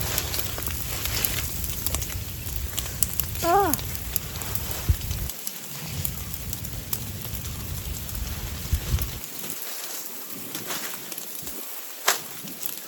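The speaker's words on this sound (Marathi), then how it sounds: "आता पाऊस गळाक लागलो असा" Early April rain falls steadily in a rural outdoor setting, a soft continuous patter that thins out partway through, with one brief bird call early on.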